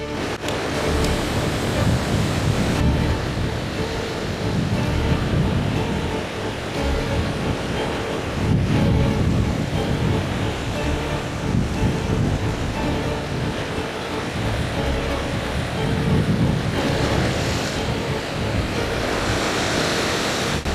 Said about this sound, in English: There are some serious waves out there now